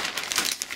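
A plastic parcel bag from an online clothing order is shaken out, giving a brief burst of loud, close crinkling and rustling with no talking.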